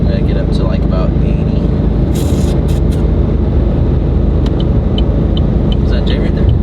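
A Chevrolet SS sedan drives at speed on a test drive, its engine and road roar a loud, constant wash throughout with a few faint squeaks and voices beneath it.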